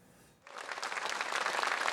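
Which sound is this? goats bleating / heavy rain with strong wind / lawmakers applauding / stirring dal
lawmakers applauding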